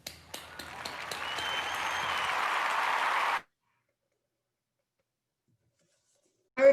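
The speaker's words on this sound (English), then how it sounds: "Please join me in a big round of applause for Diane, Ellen, Ruth, and Paul." Audience at an anniversary candlelight vigil applauds honorees with a few early claps building into steady clapping, which cuts off abruptly into silence before a brief voice at the very end.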